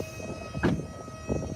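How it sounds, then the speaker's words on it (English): A Ford Mustang Mach-E horn sounds in short bursts as the car door shuts, a loud blast near the start and a second one a moment later, over a steady faint tone. "No, never mind. It honked."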